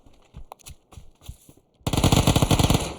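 Gunfire in the battle royale shooter PUBG: several sparse single shots at first, then a loud sustained close-range automatic burst rattling for over a second.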